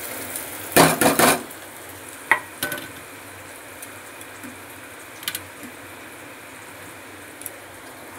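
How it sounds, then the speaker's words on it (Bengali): Sliced onions tipped into a pan of hot garlic land with a loud, close burst of crackle, then settle into a quieter, steady sizzle punctuated by a few sharp clinks of a stirring utensil against the pan. "এবার আমি পেঁয়াজগুলো দিয়ে দিচ্ছি।"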